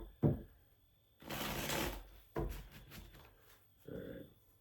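Tarot cards are shuffled by hand in several bursts, a quick riffle then longer rustling passes with brief pauses, close and fairly quiet.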